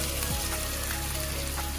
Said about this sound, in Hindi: तो वो पेस्ट के लिए हमने ये अनियन पहले हम सॉटे कर रहे हैं।